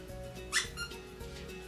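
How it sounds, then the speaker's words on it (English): Squeaky dog toy shaped like a perfume bottle, giving a single short, high squeak when squeezed, close and faint over a low steady background hum. "And it squeaks."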